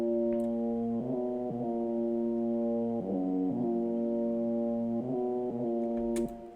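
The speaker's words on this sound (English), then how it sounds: "I made this the synth inside Serum." Sustained synth preset built in Serum, a thick chord-like tone held in long notes that change pitch every second or two, steady and fairly quiet with nothing else over it.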